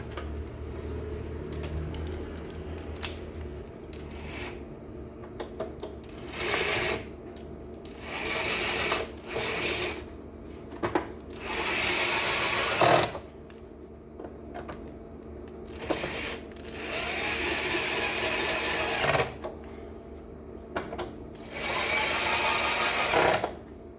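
A screw is driven into the casing of a ZK-MT21 2.1-channel digital amplifier, giving repeated ratcheting, clicking turns in uneven bursts over a low steady hum, close and fairly quiet.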